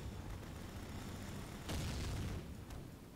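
Artillery bombardment explosions in the strategy video game Rise of the Reds, distant muffled booms over a constant rumble of battle, with one heavier blast standing out midway and a sharper crack shortly after.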